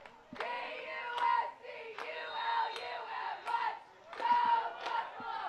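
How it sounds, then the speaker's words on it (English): Members of a women's lacrosse team cheer from the stands at a men's lacrosse game, a cluster of voices yelling in repeated bursts with short pauses, fairly close and lively. "Pioneer women's lacrosse team cheering on the men's lacrosse team."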